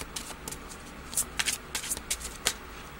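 A deck of tarot cards is shuffled by hand in a series of quick, crisp riffling bursts, close and clear, with no talking.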